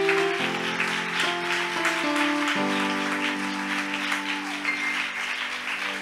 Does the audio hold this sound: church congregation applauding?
yes